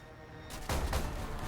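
Burst of 20mm cannon fire striking a fighter plane in the combat game War Thunder, a sudden loud rattling barrage that cuts in halfway through and keeps pounding densely to the end.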